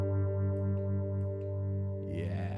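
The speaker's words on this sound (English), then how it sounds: "So let's slow this sucker down to some good old Lukenbach sound, right?" A sustained guitar chord through a Line 6 POD Express slowed phaser effect slowly sweeps and swirls, then fresh strummed notes break in at the end.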